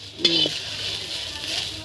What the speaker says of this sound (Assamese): এই পলু চব ভাজি আছে